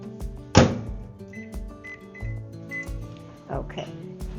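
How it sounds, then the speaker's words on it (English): A kitchen microwave oven is loaded and started, with a door thunk, clinks and button beeps followed by a low running hum, heard close among other kitchen handling noises. "I'm just pop this in the microwave."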